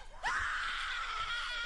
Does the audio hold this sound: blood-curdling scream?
yes